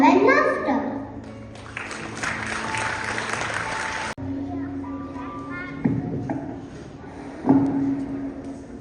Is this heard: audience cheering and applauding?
yes